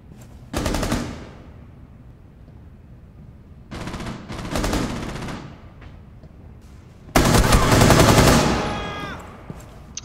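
Rainbow Six Siege gunfire in three loud automatic bursts separated by quieter gaps, the last burst longest and most intense, close and unmasked by talk.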